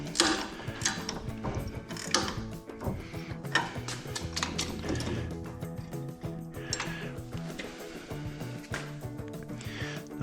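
A hand ratchet clicks rapidly in repeated bursts while snugging bolts during assembly of a front end loader for a John Deere 425, 445 or 455, close and metallic with clanks between strokes.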